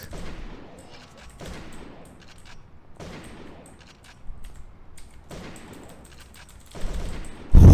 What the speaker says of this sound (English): Up next, we've got rapid shooting.